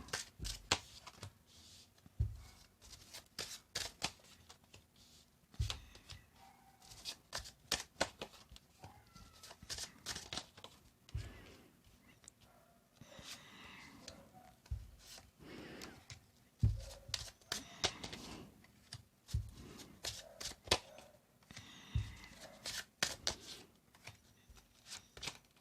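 Tarot cards are shuffled by hand in quiet, repeated bursts of soft riffling and tapping, close and faint, with short pauses between shuffles.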